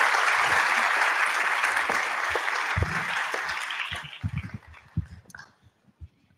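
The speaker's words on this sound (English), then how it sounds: "Let's take another big round of applause for our presenters." Audience applause for presenters at a conference talk, dense and steady clapping that thins out into a few scattered claps before fading.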